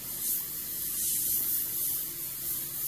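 An airbrush sprays paint onto a monotone portrait, a steady close hiss running unbroken and evenly throughout with no voices.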